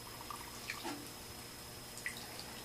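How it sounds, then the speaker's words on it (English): Water drips from the drain hose of an LG washing machine, a few faint, sparse drops against a quiet background. "So it drips. Starts dripping."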